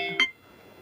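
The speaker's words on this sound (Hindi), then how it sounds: "फोन आ गया किसी का।" A mobile phone goes off during a physics class on surface energy, a single short electronic beep that cuts through and quickly fades to quiet room tone.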